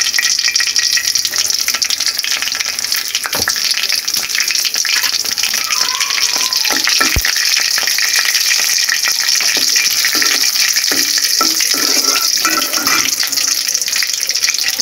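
Dried chili and five-spice panch phoron fry in hot oil, a loud continuous crackling sizzle with occasional stirring clinks and scrapes throughout.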